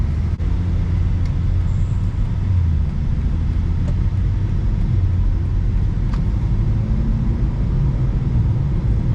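A 2024 BMW M2 CS with a transmission tune cruises slowly through a neighborhood, its engine a steady low rumble with road noise throughout, close and continuous, with no one talking.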